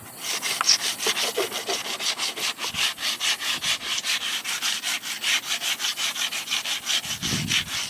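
Steady back-and-forth rubbing of Coca-Cola into rusty chrome on a vehicle runner, a rhythmic close scrubbing with many quick strokes throughout and a soft thump near the end, with no talking.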